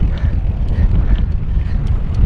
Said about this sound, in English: and it is a bit windy